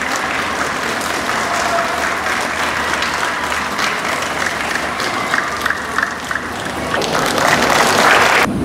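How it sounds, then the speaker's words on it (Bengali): Guests at a Bengali New Year 1432 cultural event at the Bangladesh Consulate General in Dubai give a standing ovation, with dense, continuous crowd clapping throughout that swells louder toward the end. "আমি সম্মানিত সকল অতিথিবৃন্দকে দাঁড়িয়ে করতালি প্রদানের জন্য বিশেষ অনুরোধ জানাচ্ছি।"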